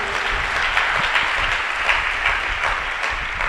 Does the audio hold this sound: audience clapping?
yes